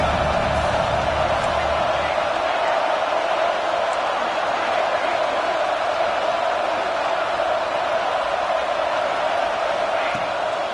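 A football stadium crowd roars in a steady, sustained wall of cheering and noise that holds loud throughout, with no distinct voices standing out.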